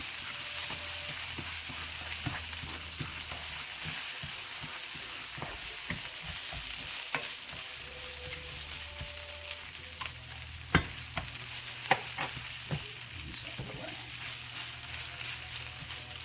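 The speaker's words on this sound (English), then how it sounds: "once you do this part, the rice tends to pop, and if it lands on you, it is not fun" Spanish rice with tomato sauce frying in a pan, with a steady sizzle, scattered sharp pops and occasional stirring scrapes, close and fairly quiet, and no talk.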